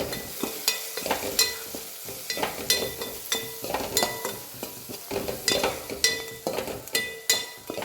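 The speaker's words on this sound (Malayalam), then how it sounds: "ഇനി ഇളക്കി കൊടുക്കുക." A spoon stirs curry with turmeric powder in a pan, producing repeated rhythmic scraping strokes roughly every half second over a soft background sizzle, close and clear with no talking.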